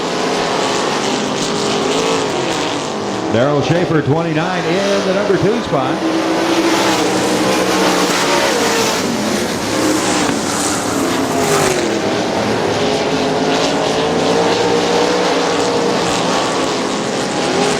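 410 sprint cars roar around the Butler Battlegrounds dirt track in Quincy, Michigan, engines loud and close with rising and falling pitch as cars pass, under continuous announcer talk.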